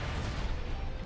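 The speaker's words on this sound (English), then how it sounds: "Charge the cannon, fire!" Orbital rail cannon in a video game firing and striking its target, a dense booming rumble with a crashing explosive burst, loud and sustained across a brief moment with no talk.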